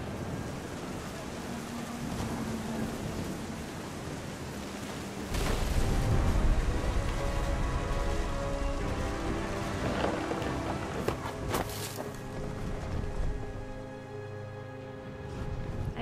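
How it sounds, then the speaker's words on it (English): In the video game What Remains of Edith Finch, a storm at the beach brings a deep, heavy rumble of close thunder over a constant wash of rain and sea, swelling midway and then easing off. "The thunder sounded much too close and full of angry power."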